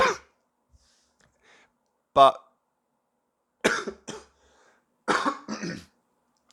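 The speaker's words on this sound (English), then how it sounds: "Or at least I've got the cough still." Several short, harsh coughs from someone still recovering from COVID, spread out between quiet pauses, with one brief spoken word.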